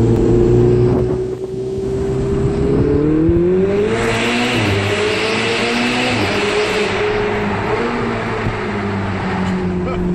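A Ferrari 488 GTB Spider accelerates inside a tunnel in Italy, its engine note climbing through rising revs and gear changes, loud and close with a booming reverberant roar throughout.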